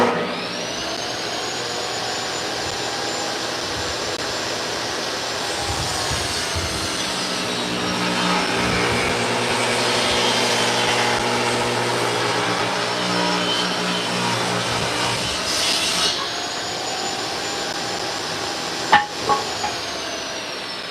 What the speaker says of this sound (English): I know I'm a wuss, but I hate using the table saw.